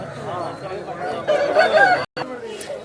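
A rooster at the Vijayawada poultry market gives a harmonic, crowing-like call near the mic amid market noise and talk, broken by a brief dropout.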